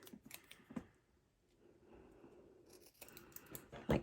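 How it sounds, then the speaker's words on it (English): Scissors snipping a small piece of paper for a Halloween paper-craft treat, a few quiet, crisp cuts near the start and end with softer handling noise between. "Then we're going to cut another little piece"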